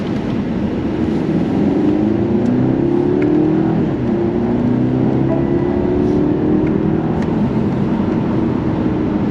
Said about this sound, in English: It's a quick in-gear acceleration demo. The sound is pretty nice.